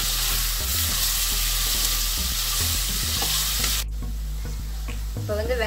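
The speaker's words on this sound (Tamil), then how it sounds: "ஆனியனும் ஜிஞ்சர் கார்லிக்கும் சேர்த்துக்க போகிறோம். சேர்த்துட்டு நம்ம நல்லா வதக்கி விடணும்." Onion, ginger and garlic sautéing for a Kerala-style chicken curry, giving a loud continuous sizzle with a low hum and stirring knocks throughout, which drops sharply near the end to quieter scraping.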